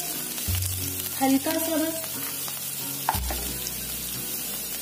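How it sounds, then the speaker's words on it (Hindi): Chopped garlic frying in hot oil in a pan, a soft steady sizzle with a couple of brief utensil knocks, under a few quiet spoken words. "लहसुन इसको थोड़ा ज्यादा मैंने रखा है और इसको बहुत ज्यादा फ्राई नहीं करना होता है।"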